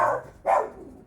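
Dogs bark nearby in a home where an 8kg Chiq washing machine is running: two sharp, separate barks in quick succession, clear and fairly loud.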